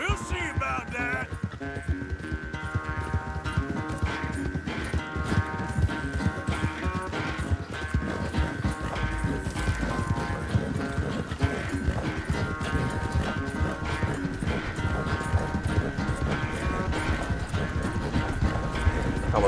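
A horse gallops in Red Dead Redemption 2, with rapid, steady hoofbeats pounding throughout under a loud, continuous backing of music.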